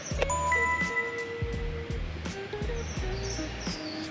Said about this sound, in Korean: 새소리 나.